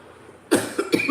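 Two sharp, close coughs in quick succession after a moment of quiet.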